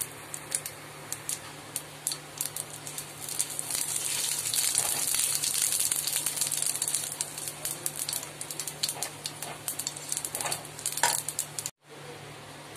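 Dried red chilli and radhuni seeds frying in hot oil in a pan for a bottle gourd and prawn dish, a steady close sizzle with occasional spoon scrapes and light clinks, cutting off briefly near the end.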